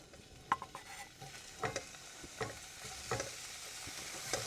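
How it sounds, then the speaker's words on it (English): Ham slices frying in a hot pan on a Camplux FG01AR portable camp stove, a steady soft sizzle with small pops and crackles, quiet and close, no voices. "Slide our ham in."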